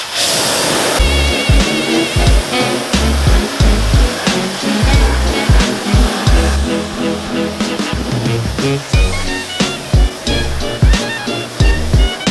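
A touchless car wash sprays water onto a car wheel, a steady loud broadband hiss under a thumping rhythmic music beat throughout.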